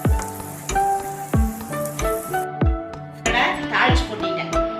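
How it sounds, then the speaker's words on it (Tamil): Hot tempering is poured over curd vada (thayir vadai), giving a sizzle under repeated metallic clinks of a spoon or ladle against a vessel, close and fairly loud. "தாளிச்சு கொட்டிட்டேன் பாருங்க"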